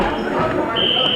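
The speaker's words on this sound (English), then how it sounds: "And there's the buzzer." A sharp electronic buzzer at a youth boys' basketball game sounds partway through and holds steadily, cutting over loud crowd noise and a commentator's voice.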